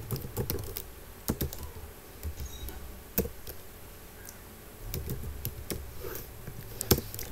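Keys tapping on a computer keyboard while C code is typed, in irregular clusters of clicks with pauses between them, fairly close and alone without talk.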